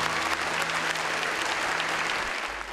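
An audience at a live Burmese pop concert in 2006 claps in sustained, even applause, a thick wash of many hands filling the hall, with a faint low tonal hum underneath.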